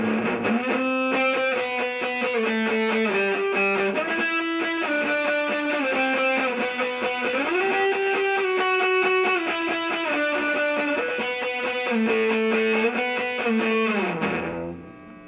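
Fuzzy, heavily distorted electric guitar through a Big Muff distortion pedal, playing a sustained chord progression with thick, saturated tone, ringing out alone before cutting off at the end.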